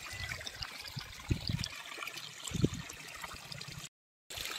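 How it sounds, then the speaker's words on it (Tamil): Water trickling and pouring into a kurkure dough mixture in a home kitchen, a soft steady dribble with a couple of louder splashy bursts, close up and alone with no talk. "தண்ணி வந்து தேவையான அளவுக்கு வந்து விட்டுங்க ஃப்ரெண்ட்ஸ்"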